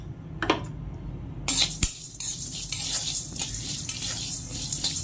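Chana dal and urad dal dry-roasting in a pan for a spice powder, with light scraping and stirring clatter and faint crackle, steady and close, no talk.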